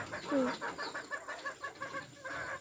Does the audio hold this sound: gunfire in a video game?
no